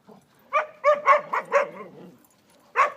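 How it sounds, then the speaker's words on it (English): A dog barks in a quick run of five or six sharp yips and woofs, then one more bark after a short pause, close by. "I'm going to walk away from Dixie here because Dixie's barking."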